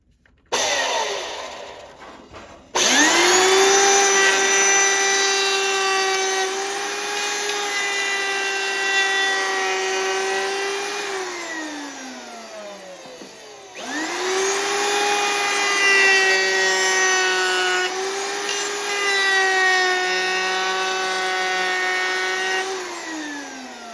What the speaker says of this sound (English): So I'm gonna do the half round router right now.